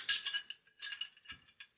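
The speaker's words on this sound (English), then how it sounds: "let's go ahead and insert the barrel" A Smith & Wesson Model 952 pistol barrel slides through its bushing in a series of close, faint metallic clicks and light scrapes, a few quick contacts spread over a short moment, with no talking.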